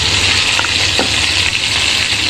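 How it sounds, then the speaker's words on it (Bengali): Rohu fish pieces fry in hot oil in a pan as they are turned over, giving a steady close sizzle with a few soft clinks and scrapes of turning. "মাছগুলি আমি আস্তে আস্তে উল্টিয়ে দিচ্ছি"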